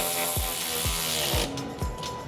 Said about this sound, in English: I'm putting my ratchet on and I'm tightening it in its position.